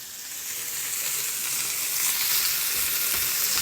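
Food is stirred and fried in a pan during a home New Year's Eve meal in Japan, a loud, close, steady hiss of sizzling that swells slightly as it is mixed, with no talk.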